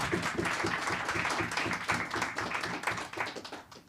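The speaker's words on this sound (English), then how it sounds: "Can we give them a round of applause?" A crowd applauding steadily, many hands clapping in a dense, sustained patter that fades slightly toward the end.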